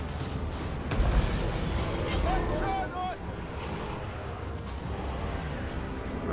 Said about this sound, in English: We're under some pretty heavy gunfire from that flank.